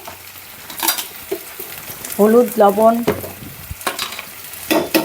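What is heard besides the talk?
frying green chillies and chopped garlic, stirring in a pan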